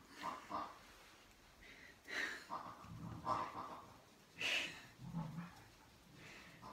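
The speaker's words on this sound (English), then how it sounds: "our dog is playing with his pig" A pet dog plays with a squeaky toy pig indoors, producing irregular bursts of squeaks, snuffling and snorting breaths in short clusters, fairly close but soft.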